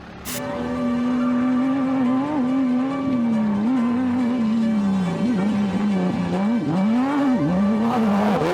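A race buggy in the Finke Desert Race through the Australian desert drones loudly and close, its engine note holding steady and then rising and dipping as the driver works the throttle over rough track.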